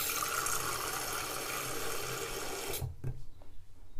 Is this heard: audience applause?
no